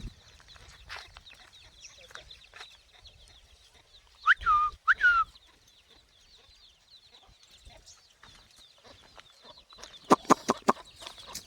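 Chickens and chicks cluck and a rooster calls in short bursts on a free-range country chicken farm, with scattered bird chirps in a quiet outdoor setting.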